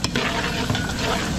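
Garlic frying in hot cooking oil in a big catering wok, a loud, close, steady sizzle mixed with stirring scrapes.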